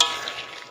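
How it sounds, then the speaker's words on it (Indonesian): Peanuts are stirred as they fry in a pan over medium heat, a brief close scrape-and-sizzle of oil and rattling nuts that fades quickly, with no voices. "Tips menggoreng kacang dengan api seperti ini, kemudian harus rajin kita aduk ya"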